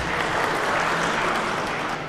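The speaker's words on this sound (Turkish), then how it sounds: "alkışlarınızı." Audience applause at a memorial exhibition event, a dense, steady wash of clapping from many hands, loud and continuous without talk.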